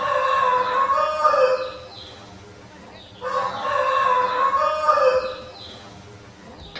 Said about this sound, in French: Dommage que ce rêve fût interrompu par le chant du coq